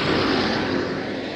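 A tractor drives past outdoors in a rural farming area near Ebersberg, Germany, a loud, steady engine drone that stays close for the whole moment.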